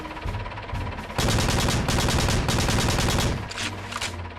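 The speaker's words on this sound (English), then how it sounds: "For closer targets, ask your MG gunner to clear the way." Rapid machine-gun bursts from the gunner of a Frontier Herman Mk5 light tank in the game Battalion Wars, with a loud dense burst of steady fire in the middle flanked by quieter fire and engine hum.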